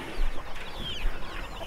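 White chickens on a poultry farm cluck in a busy, overlapping chatter that stays at a moderate level throughout, with no voices over it.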